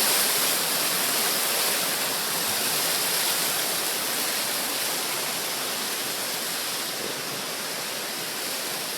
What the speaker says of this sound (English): We'll be filming the waters and the fountain, so enjoy.